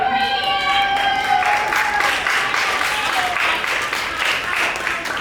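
Audience at a senior literary arts reading applauding enthusiastically, sustained clapping mixed with cheers and whistles that holds steady throughout, with some voices heard over it.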